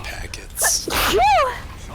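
A single sharp human sneeze bursts out close to the mic, with a breathy intake first and a quick voiced tail after it, set among casual conversation.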